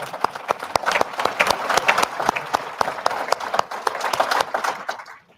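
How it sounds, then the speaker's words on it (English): A legislative session audience gives a steady round of applause, a dense mass of close handclaps that holds evenly and then stops abruptly at the end. "Let's give them one more hand of applause."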